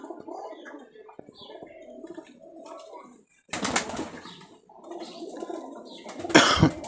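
Giribaz high-flyer pigeons cooing in a loft, soft low burbling coos in short phrases, close by, with a couple of louder rustling bursts that sound like wing flaps.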